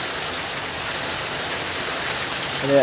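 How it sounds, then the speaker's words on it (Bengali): Steady rain falling outdoors on an early morning, a continuous even hiss of drops with no clear individual hits, holding at a constant level before a brief faint sound near the end. "আলহামদুলিল্লাহ বৃষ্টি পড়তেছে"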